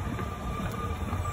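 A train rumbles steadily along, with a constant low roar and faint high squeal of rail wheels, continuous and fairly close, no voices.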